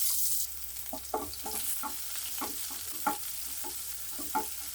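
Chopped small onions sizzle in a hot pan while being stirred, with a steady frying hiss and repeated scraping, clinking stirs in an uneven rhythm, close and alone with no talking.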